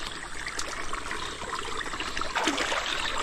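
Irrigation water trickles and burbles steadily into a flooded rice field, with a continuous close wash of small splashes and no voices.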